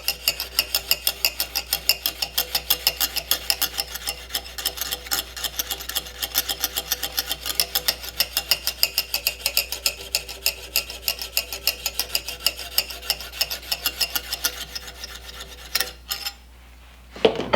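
A knife edge scraped against a sharpening stone while folding back the wire edge: a rapid, even series of close rasping strokes runs for about sixteen seconds before stopping, followed by a brief quiet pause.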